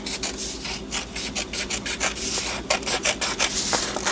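Scissors or a blade trimming a paper traveler's notebook insert, giving steady, close rasping cuts and rubs in quick uneven strokes with no talk.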